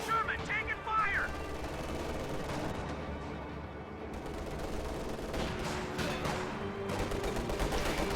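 Gunfire strikes a Sherman tank amid a World War II tank battle game, with bursts of shots and rattling impacts layered under a busy battlefield mix while voices talk over it.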